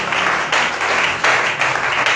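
A church congregation applauds in a steady, dense wash of clapping that swells in loudness a few times over a couple of seconds.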